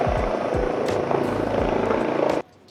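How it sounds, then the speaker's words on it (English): Helicopter nearby lifting off, a loud steady rotor roar with deep thumping blade pulses that holds throughout, then cuts abruptly to near quiet just before the end. "there's a helicopter taking off"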